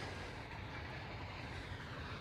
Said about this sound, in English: You can hear the train in the background maybe.